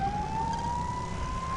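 The siren of the Dasher police motorcycle in Lego City Undercover, a single steady, slowly rising electronic wail heard clearly over a low engine hum.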